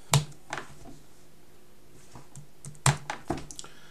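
Computer keyboard keys tapped in two short bursts of a few strokes each, quiet and close, with a pause between them.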